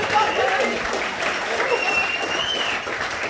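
A wedding crowd claps for the speeches in sustained, fairly loud applause that holds steady throughout, with some voices mixed in.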